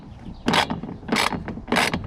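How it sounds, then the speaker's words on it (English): A bolt is worked out of a seat in a 1961 Ford Falcon wagon, giving three bursts of bright metallic ratcheting and scraping at a steady rhythm. The sound is close and moderately loud, with a light mechanical rattle between the bursts. "I'm pulling this bolt out a little bit"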